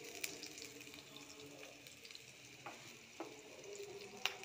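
Onion paste frying in a pan with ginger and garlic, giving a faint, steady sizzle with a few soft stirring scrapes and light clinks, no voices.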